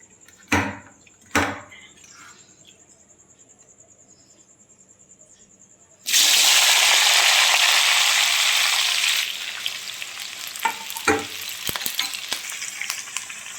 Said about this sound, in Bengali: আমরা মাংস ভাজা তেলের ভিতরে যে সবজিগুলো কেটে নিয়েছিলাম সেগুলো দিয়ে দেবো এর ভিতরে